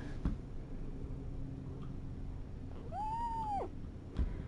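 A young kitten on a scale lets out a single clear, drawn-out meow, close and distinct over a quiet room, with a couple of soft clicks around it.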